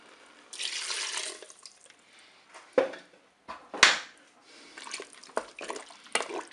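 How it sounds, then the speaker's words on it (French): Broth is poured into a Cookeo electric pressure cooker, giving a splashing liquid stream at first, then intermittent sharp clinks and dribbles, fairly close and alone without talk. "Et là, je vais verser mon bouillon."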